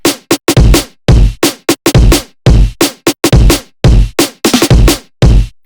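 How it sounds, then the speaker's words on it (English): A layered electronic snare, with a very short duplicated snare stacked on the main snare, hits loud and close in a steady rhythmic drum pattern of many sharp strikes with no talking. "together with the main snare it sounds like this."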